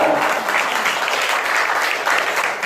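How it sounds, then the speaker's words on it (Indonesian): A church congregation breaks into steady, loud applause, the dense clapping holding evenly for a few seconds with no voices over it. "Berikan tepuk tangan bagi dia."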